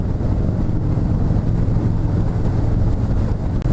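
A 2019 Harley-Davidson Fat Boy 114 cruising at speed around 55–60 mph in fifth gear, a deep continuous engine rumble mixed with heavy wind roar, steady and close with no talk.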